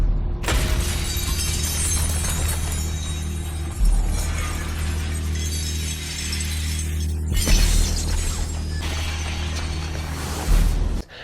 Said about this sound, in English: you're hearing all that tinkling of broken glass